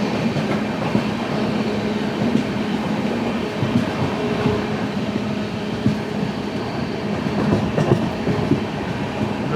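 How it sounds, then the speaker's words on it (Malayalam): The 12218 Kerala Sampark Kranti Express rejoining the main line after the Irinjalakuda halt, heard from onboard as a loud, steady rumble with rhythmic wheel clicks on the rails and no voices. "ഇരിങ്ങാലക്കുടയിലെ ഹോൾട്ട് കഴിഞ്ഞ് ജസ്റ്റ് മെയിൻ ലൈനോട് തിരിച്ച് കയറുന്നേ ഉള്ളൂ."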